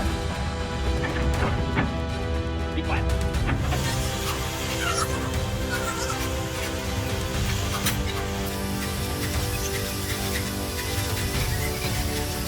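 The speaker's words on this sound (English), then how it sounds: "With each crushing blow, the car is twisted and shattered" Heavy metal crunching and smashing continues without a break as an excavator bucket crushes a car, loud grinding and scraping with sharp cracks as the body is crushed.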